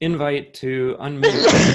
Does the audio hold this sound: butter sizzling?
no